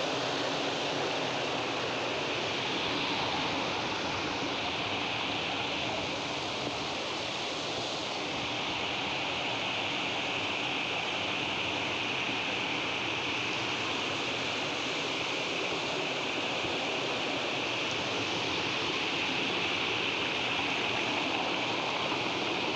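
A fast-flowing river in an Indian village during rain rushes with a steady, broadband roar, continuous and fairly close, with no voices.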